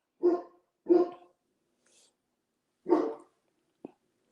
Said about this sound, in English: Sam and Maggie are barking.